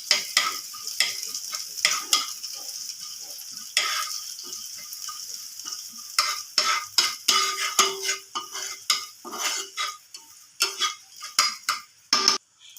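Dry red chilli, cumin seeds, mustard seeds and curry leaves fry in a pan with intermittent sizzling bursts and sharp popping crackles, mixed with scraping stirs and utensil taps.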